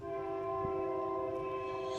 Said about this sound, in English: almost every sign has had a train go through